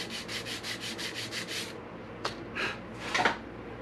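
Sandpaper rubs along the wooden sides of a guitar headstock in about eight quick, even back-and-forth strokes, then pauses and makes a few scattered scrapes and taps, close and clear.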